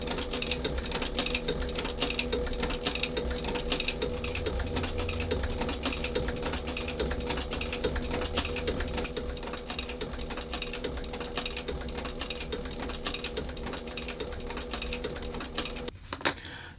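A speed-reduced sewing machine stitching together the heel back and quarter panels of a leather shoe upper, a steady close mechanical whir with rapid rhythmic needle clatter running continuously, ending in a brief clunk.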